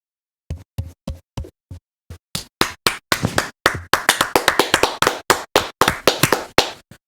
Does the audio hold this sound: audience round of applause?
yes